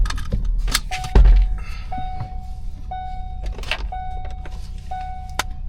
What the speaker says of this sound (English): I need to turn on the car.